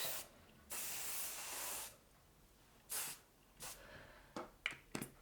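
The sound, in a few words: hairspray being sprayed onto styled hair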